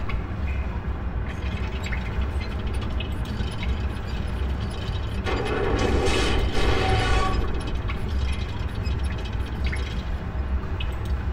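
In Myst III: Exile, a crank turns gears against a spinning water wheel. Water drips and runs continuously under mechanical clanking and ratcheting, and a louder grinding, splashing burst rises midway before settling back.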